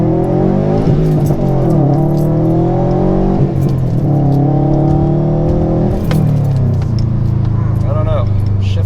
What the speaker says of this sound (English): I'm also going to try out the acceleration again just a little bit more to see the differences.